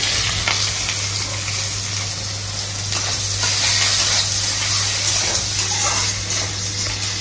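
Chopped onion with bay leaves, cinnamon and cumin frying in hot oil, a loud continuous sizzle with stirring scrapes and a steady low hum underneath.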